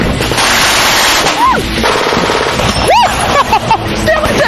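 An FAL rifle, STG-58 variant chambered in 7.62 NATO, fires at full auto in a loud, rapid stream of cracking shots close by, with voices mixed in.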